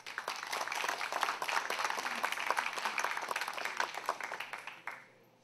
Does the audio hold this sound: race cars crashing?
no